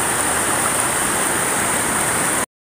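Steady broadband rush of the Cidikit River flowing near its upper reaches in late afternoon, the water slightly murky; a continuous, close, fairly loud watery hiss with no voices, cutting off abruptly.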